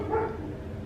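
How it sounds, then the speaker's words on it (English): A dog barks once, muffled and somewhat distant, indoors. "I'm gonna wait for my dog to just stop barking so I can make this fucking video."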